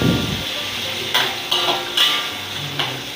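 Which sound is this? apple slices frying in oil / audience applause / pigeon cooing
apple slices frying in oil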